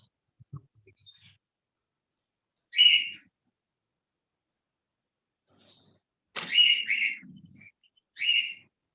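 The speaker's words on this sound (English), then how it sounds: "You have a bird there." A small bird chirps indoors in a classroom, giving a few bright, high tweets in separate short bursts, with a longer run of chirps near the end and quiet gaps between them.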